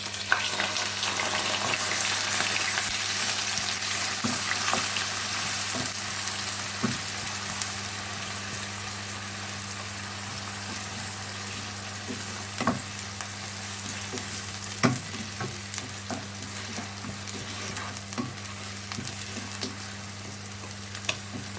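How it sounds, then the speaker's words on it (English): Blended onions and ginger garlic paste sizzle and fry steadily in a pan while being stirred, with scraping stir strokes now and then over a constant close hiss and no talking. "Give it all a mix."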